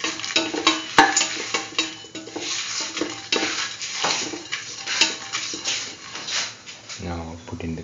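A spoon scrapes and stirs curried chickpea dip ingredients in a bowl, with repeated close clinks and scraping strokes and a rattle of dishes near the end.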